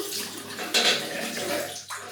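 Cold water runs steadily from a bathroom tap at the end of a wet shave, a close, continuous splashing hiss with a brief surge partway through and no talking.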